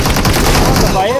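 Rapid gunfire in a battle royale shooter game, a short loud burst of shots, close and dense, lasting about a second.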